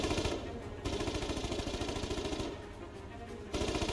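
A machine gun fires in sustained rapid bursts during a Foxhole battle, staccato and fairly loud, with brief gaps between the strings of shots.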